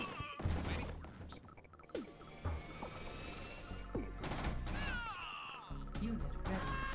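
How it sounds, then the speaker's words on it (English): Heavy gunfire in a real-time strategy game rattles in scattered bursts and volleys amid explosions and unit sounds, with brief in-game voice responses between shots. "We're taking heavy fire."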